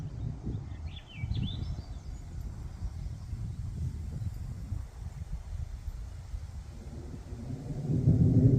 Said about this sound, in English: You hear all that thunder?